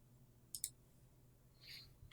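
Two quick, crisp computer mouse clicks close together, followed a moment later by a softer click and another sharp one near the end, all isolated against a quiet low room hum.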